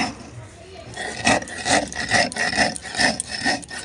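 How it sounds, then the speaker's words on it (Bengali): Sugar is ground into powder in a kitchen, giving rhythmic scraping, rasping strokes roughly every half second, close and moderately loud, after a quieter start. "এবারে চিনিটা আমি গুঁড়ো করে নেব।"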